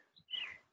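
Birds chirp in open rice fields, a brief high tweet followed by a louder, longer call, faint and distant-sounding, with no talking.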